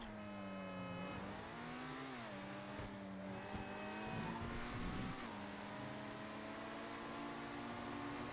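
A fast car in the GTA 5 Online video game drives at speed and keeps accelerating, its engine whine rising and dipping through gear changes, loud and steady with a brief tire squeal, no talk.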